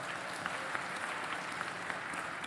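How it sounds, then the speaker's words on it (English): An audience at an artificial intelligence forum in Tanzania claps steadily for young participants, a dense, even applause from a crowd in a hall with a few sharper claps standing out. "Let's put our hands together for the youngsters."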